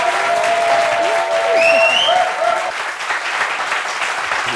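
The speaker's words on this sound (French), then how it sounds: "Mais applaudissements pour Brezinger, s'il vous plaît" A crowd applauds steadily, dense clapping with a few faint whistles riding over it, fading slightly toward the end.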